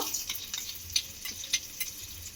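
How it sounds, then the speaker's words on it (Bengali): Light crackling sizzle of nigella seeds and grated ginger frying in oil, with a few sharp pops and spits, fairly quiet and steady, no voices. "এবারে যখন কালা জিরেটা খুব ভালোভাবে ফোড়নে ভাজা হয়ে যাবে,"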